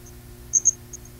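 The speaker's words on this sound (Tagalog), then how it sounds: "Kuliglig. Tahimik kasi sir." Crickets chirp faintly in a quiet late-afternoon setting, a few short, high trills scattered over a low background hum.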